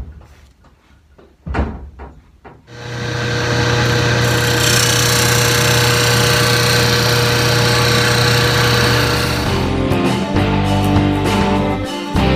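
A wood lathe spins up and runs steadily as a tool cuts a wooden rice bowl, a loud continuous whirring hum with scraping texture that holds for several seconds, then shifts and winds down near the end after a few knocks.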